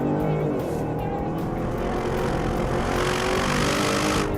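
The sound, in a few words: Bentley Continental GT V8 S engine and exhaust accelerating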